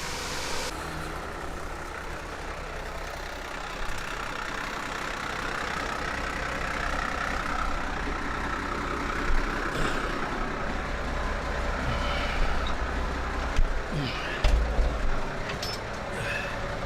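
A farm tractor engine idling steadily during grain moving, a low continuous rumble with a few small clunks and knocks toward the end as it prepares to shift into gear.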